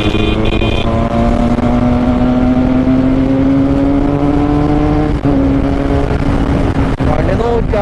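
A Benelli 302R motorcycle engine pulls steadily under throttle while riding in fourth gear, its tone climbing gradually, loud and close, with wind rush and brief clicks near the end.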